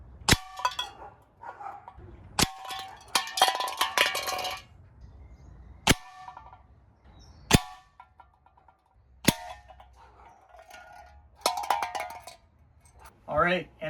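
Gamo Swarm Viper Gen3i air rifle firing outdoors, with six sharp, separate shots spaced a few seconds apart, each followed by brief clanks and rattles between shots and a little faint background noise.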